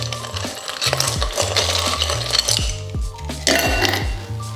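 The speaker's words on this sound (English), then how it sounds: "Add some ice." Ice cubes drop into a chilled glass while a Gin Fizz cocktail is made, giving a few bright clinks and rattles over steady background music.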